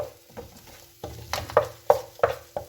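Half-cooked tomato masala scraped and pushed to one side of a pan while egg rice is made, giving a steady sizzle broken by a run of sharp, close spatula scrapes toward the end.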